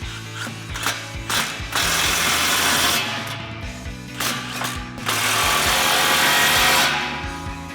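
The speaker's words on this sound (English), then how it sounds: "We'll grab our impact and 15 millimeter socket and tighten those 2 down." An impact wrench with a 15 mm socket tightens exhaust clamps on a 2019-2023 Ford Ranger's Borla S-Type dual exhaust, giving a few short rattling hits and then two long, loud hammering bursts separated by a pause.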